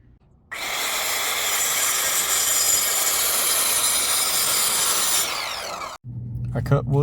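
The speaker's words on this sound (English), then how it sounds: "I cut wood that would line up with the top edges, filled in all the slats, and glued them in." A power saw cuts wood for a van floor, a loud, steady whine held for about five seconds that cuts off abruptly, followed by brief clattering.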